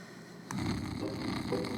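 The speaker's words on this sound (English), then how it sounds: "Snoring. Great way to start off any episode." Snoring in an animated cartoon episode, one soft breathy snore that begins suddenly and continues quietly over a faint background hiss.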